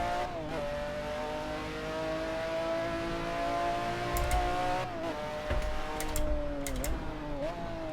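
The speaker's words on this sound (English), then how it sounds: "Yep, this is the McLaren F1 GTR." A McLaren F1 GTR engine in a sim racing game holds a steady, loud drone with rising and falling revs, dipping briefly at each gear change and accompanied by faint mechanical clicks.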